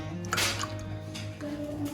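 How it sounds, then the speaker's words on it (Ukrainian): Milk is poured into an Ardesto double-bottom mug, giving a soft liquid splash and squish with dripping, close by and fairly quiet, over a steady low background hum. "Так, наливаємо наше молочко."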